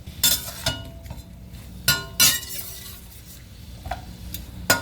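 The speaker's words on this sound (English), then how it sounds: "I'm going to go ahead and put everything in now because, like I said, it doesn't take that long to stir fry this." Shrimp and vegetables stir-fry in a wok for a keto, low-carb takeout-style dish. Sharp metallic clinks and clatters from stirring come in scattered bursts over a faint, low sizzle.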